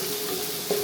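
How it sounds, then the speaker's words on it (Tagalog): Chicken tinola base sautéing in a pan, a steady broadband sizzle with a faint stir or scrape near the end, close and continuous with no talking. "Yung pag-igisa."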